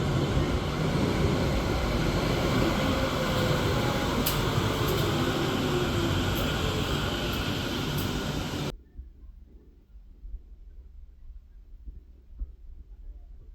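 A U-Bahn subway train at a U2 station in Germany rumbles with loud broadband roar for several seconds, then cuts off abruptly to a quiet low background.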